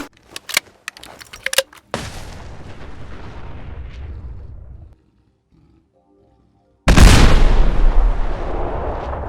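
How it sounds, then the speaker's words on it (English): MIRV grenade launcher rounds from a Fallout 4 mod burst in a quick cluster of sharp explosive pops, followed by a sustained rumbling roar, a brief silence, then a loud, heavy blast that rumbles on. "So we shoot it at the fleet and it should explode into a bunch of different rounds."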